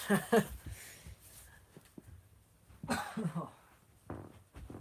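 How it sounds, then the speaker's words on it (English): A couple of short, harsh coughs from someone nearby, separated by quiet pauses and a bit of throat noise. "sometimes I feel like I have to cough"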